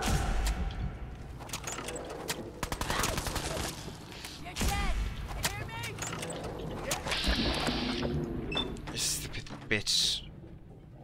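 Bursts of video-game gunfire from Fallout 4, sharp cracks and rattling volleys scattered across the stretch amid mechanical clicks and other game effects, with a player's voice talking over the action.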